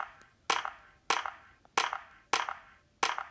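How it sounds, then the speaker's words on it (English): Five slow, evenly spaced hand claps from the Slow Clap emote in Fortnite, each a sharp close snap with a brief ringing tail, separated by quiet gaps of about half a second. "Slow Clap made in Season 1."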